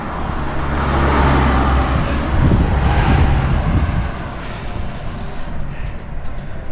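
A support car rolls along a mountain road beside cyclists on the long Alto de Letras climb, its steady engine and road rumble continuous and fairly loud, mixed with wind noise and no talking.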